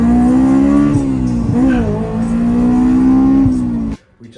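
A Honda with an AP1 engine and AP2 loop revs hard toward 9,000 RPM, a loud high-pitched wail that rises, dips and climbs again before cutting off sharply near the end.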